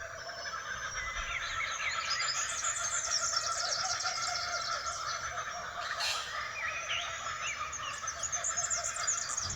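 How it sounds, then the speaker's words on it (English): Laughing kookaburra calls in Tasmania, a rising, chattering cackle that carries at moderate distance over continuous background birdsong and other wildlife. "Like the laughing kookaburra, that sounds just like a monkey."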